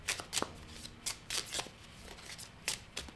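A deck of oracle cards is shuffled nearby in quick repeated riffles and flicks, with sharp papery bursts coming every half second or so and no speech.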